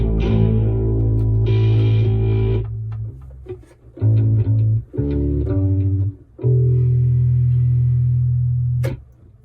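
A bass ukulele plays deep, sustained notes through a small mini amp on a basic tone with a touch of reverb, phrases separated by brief pauses, ending with a sharp click.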